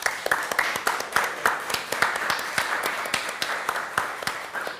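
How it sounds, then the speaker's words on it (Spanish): Studio audience applause welcoming a guest on an Argentine television interview show, a steady patter of many hands clapping at moderate volume with no talk over it. "por favor necesito un gran aplauso para Anabela Messina"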